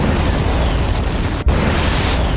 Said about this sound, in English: I know there's explosions.